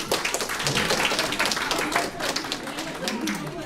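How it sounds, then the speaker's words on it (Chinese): Audience applause at an ocarina ensemble's performance: dense, steady clapping that fills the whole moment, with voices mixed in underneath. "给自己掌声。"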